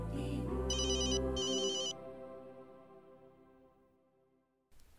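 A telephone ringtone plays loudly in bright repeating electronic bursts for about two seconds. It fades into a decaying tone, followed by a short click near the end.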